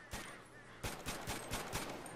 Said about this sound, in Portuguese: Todo mundo dando tiro pro alto, comemorando, pô.